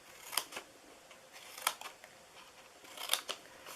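Scissors snip through scored paper while cutting down the sides of a treat box, a few short crisp cuts in three separate bursts, close and quiet.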